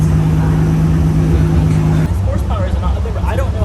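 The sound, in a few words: Z car engine revving on a dyno run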